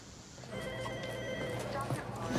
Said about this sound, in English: later that day, Morgan gets a phone call that will change everything forever